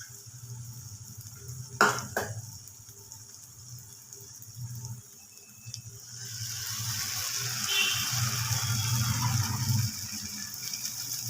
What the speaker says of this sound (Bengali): সেই মশলাটা আমি কড়ার মধ্যে দিয়ে দেবো